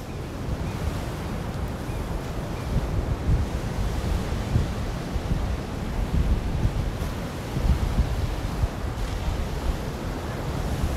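Surf and wind at Praia Brava beach, a continuous roar of breaking waves with heavy wind buffeting the microphone, swelling in louder surges.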